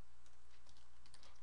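Fast, close typing on a computer keyboard while entering text in a word processor, with a steady run of light key clicks over a constant background hum.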